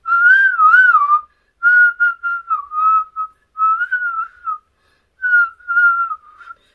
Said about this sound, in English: So let's try to see if I can actually whistle.